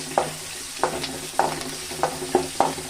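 Chili powder being stirred through hot oil in a pan for a vegetable curry, the spoon scraping in six regular strokes about half a second apart over a steady low sizzle, close and clear with no talking.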